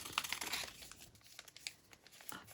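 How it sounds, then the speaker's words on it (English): Scissors cut a piece of Heat and Bond fusible web, giving quiet, close crinkling and snipping sounds in brief scattered bursts, with no talking. "I'll just do that and cut 1 piece of heat and bond."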